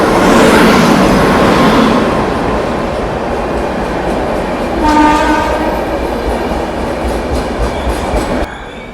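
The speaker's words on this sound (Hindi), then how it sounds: "हमारी अंबेडकर नगर एक्सप्रेस अराइव करी है काचेगुड़ा रेलवे स्टेशन पे।" The Ambedkar Nagar Express arrives at Kacheguda railway station with a steady, loud rolling rumble and clatter of carriages. A sustained horn blast sounds midway through, then the train noise eases slightly toward the end.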